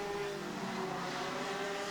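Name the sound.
IAME Parilla Sudam 125cc direct drive kart engine running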